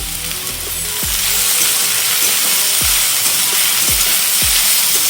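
Salted potatoes fry on low to medium heat in a pan for vegetarian chowmein. A loud, steady sizzle and hiss runs close up throughout, with a few short clanks and scrapes.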